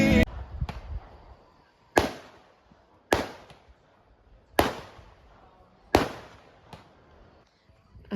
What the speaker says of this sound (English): I'm here with Tucker because he absolutely hates fireworks.